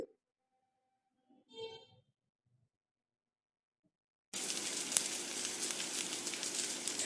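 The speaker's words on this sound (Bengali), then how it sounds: "এবার আমি এতে দিয়ে দিচ্ছি শুকনো লঙ্কা ফোড়ন" Four dried red chillies drop into hot oil for tempering and set off a sudden loud, steady hissing sizzle, after a quiet stretch with a faint clink.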